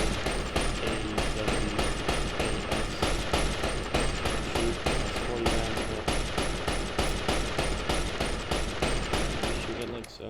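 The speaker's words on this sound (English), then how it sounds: "So next up we have the Gatling Gun." A Gatling gun in a video game fires a long, continuous burst of rapid, evenly spaced shots at steady loudness, sounding close and dense from start to finish with no speech over it.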